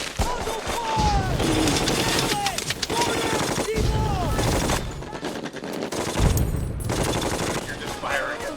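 Sustained machine-gun and rifle fire from a World War II battle scene in the Band of Brothers series, with dense bursts and a heavy explosion, loud and continuous throughout, mixed with shouted voices.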